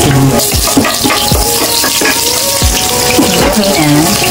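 Onion sautéing in a hot pan with garlic already in it, a steady loud sizzle with repeated scraping stirs, and a faint voice in the background.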